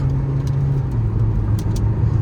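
A Kia Seltos engine pulls steadily through its mid-range under load during a drag race against a Honda Elevate. The drone is close and continuous, with no voices.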